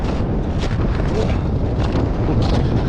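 Strong wind roars and buffets across open river ice during winter fishing, a loud, continuous rush with gusts battering the microphone.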